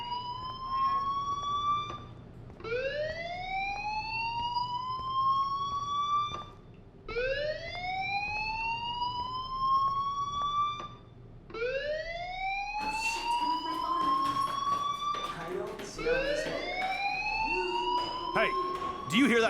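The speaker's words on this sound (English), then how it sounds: "do you hear that fire alarm?" A rising-and-falling fire alarm wail in a video game repeats in about five long sweeping cycles, loud and continuous, with extra clatter and harsher sounds joining near the end.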